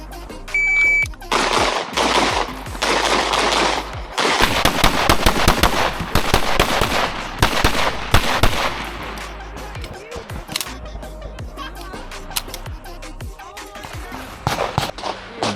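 Rapid pistol shots crack in quick strings during a stage of a Polish IPSC shooting match, loud and sharp with short gaps between bursts, with faint talk at times beneath the fire.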